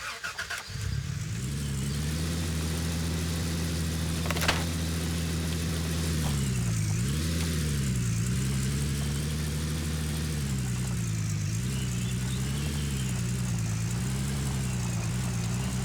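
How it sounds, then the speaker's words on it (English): A small truck towing a trailer starts up and then drives along, its engine a steady low drone with a couple of brief revs and dips. The engine runs close and without any talk. "So we'll take our little truck and trailer here."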